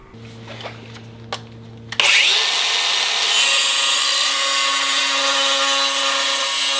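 A power saw cuts steel sheet for 4Runner fender liners, kicking in abruptly after a few light taps and then running as a loud, continuous, high-pitched grinding whine close up.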